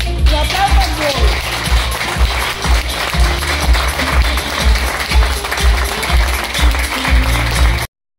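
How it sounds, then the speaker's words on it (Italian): An audience claps at the inauguration of L'albero della vita, a family-style care home for the elderly. Dense, steady applause fills the whole stretch at close range, with voices mixed in, then cuts off abruptly at the end. "Un applauso a voi."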